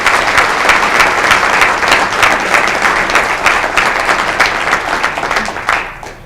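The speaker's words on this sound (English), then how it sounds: "Let's give those two men a round of applause." A town audience applauds at a community breakfast forum, dense steady clapping filling the room for about six seconds before tapering off at the end.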